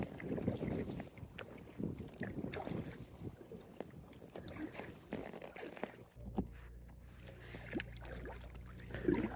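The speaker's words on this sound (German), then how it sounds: "trotz relativ starkem Wind und auch Wellengang, kommt man mit dem Kajak super schnell voran" A Gumotex Thaya inflatable dropstitch kayak, paddled by two people, moves through strong wind and choppy waves: gusty wind buffeting the microphone with splashing water and rhythmic paddle strokes, steady and fairly quiet throughout.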